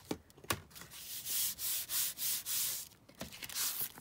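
Glued paper envelope flap being rubbed flat by hand, a series of about six smooth, evenly spaced swishing strokes, close and soft, preceded by a few sharp taps, with no voices.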